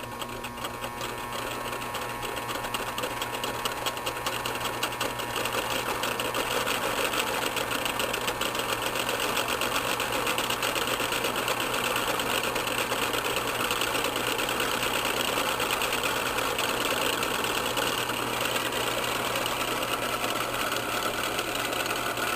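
A homemade electric motor with a spiral-patterned rotor spins under power, giving a steady, rapid mechanical buzz and rattle with a faint whine that holds constant for over twenty seconds, close by and without speech.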